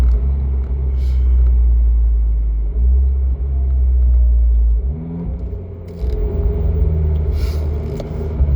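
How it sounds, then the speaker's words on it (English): An Abarth 595C Turismo engine idles with a deep, steady rumble, then shifts its note partway through, staying close and fairly loud. "So it has this type of sports car sound."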